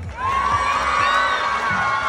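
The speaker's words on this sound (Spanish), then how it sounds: "El aplauso para ella." An audience cheers and whoops for a girl at a children's contest, a loud, steady crowd roar with high excited voices that holds for about two seconds.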